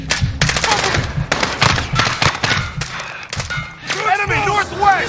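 Rapid machine-gun fire from a gun nest in Call of Duty: Modern Warfare (2019) rattles in loud repeated bursts, with shouted voices over the gunfire toward the end.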